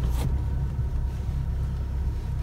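A car driving uphill on a campsite track in Namibia, a steady low engine rumble close inside the vehicle, even and continuous.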